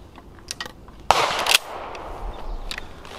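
A Springfield 67F 20 gauge pump shotgun fires one loud, sharp blast at close range, then its boom fades, with small clicks and handling noises before and after.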